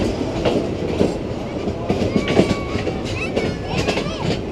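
A train rolls past in a steady, continuous rumble with rhythmic clickety-clack of wheels on rail joints, loud and close throughout, with faint children's voices and chatter mixed in beneath.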